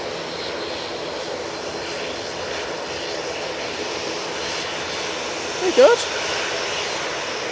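A Ryanair airliner departing at Manchester Airport, its engines making a steady, fairly distant roar throughout, with a brief spoken remark near the end.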